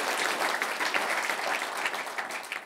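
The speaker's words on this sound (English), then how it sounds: "Nice round of applause for him." Conference audience at Davos 2017 claps for an energy expert on a panel, a brisk and even round of applause heard at moderate distance for under three seconds.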